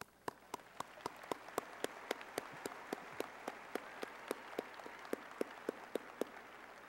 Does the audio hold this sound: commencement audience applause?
yes